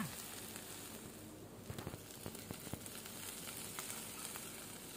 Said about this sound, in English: Now fry it until you see that the bhindi has started to change its color